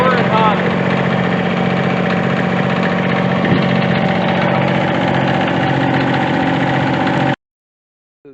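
A Kubota B6100 tractor engine runs hot and not well, giving a loud, steady, close rumbling drone that cuts off abruptly near the end.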